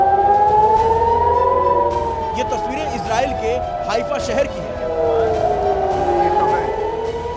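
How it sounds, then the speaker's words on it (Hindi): Air raid sirens wail over the seaside city of Haifa, Israel, several overlapping tones rising and falling at once, loud and sustained while someone speaks over them. "लगातार यहाँ सायरन की आवाजें सुनी जा रही हैं।"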